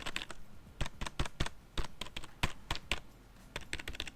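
Quick typing on a Rii RK907 full-size USB wired keyboard with soft keys, close-miked: crisp irregular keystroke clacks in short bursts and pauses, no talking.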